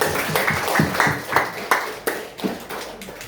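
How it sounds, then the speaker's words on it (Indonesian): An audience at a meet-and-greet event in Bali claps for a woman called to the front. The claps are close, uneven and loosely rhythmic, and the scattered burst fades out after about three seconds. "Tepuk tangan buat ibunya."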